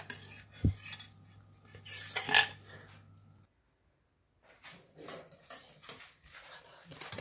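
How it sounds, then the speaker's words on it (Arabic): Water and milk being stirred together for an anise seed dessert, with scattered clinks and scraping of a utensil against a container, interrupted by a short quiet pause; a dog whimpers and a voice speaks nearby. "نخلط الماء ديالنا مع الحليب"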